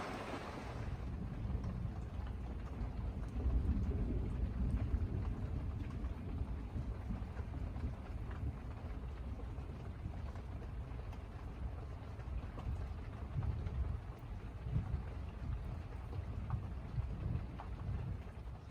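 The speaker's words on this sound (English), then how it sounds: "Some more rain coming down" Steady rain pours down through a thunderstorm around a debris-built village camp, with low rumbling thunder rolling underneath, a constant dense wash of sound from start to finish.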